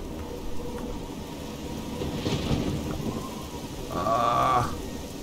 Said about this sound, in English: The rain. Wow. It's really tipping down now.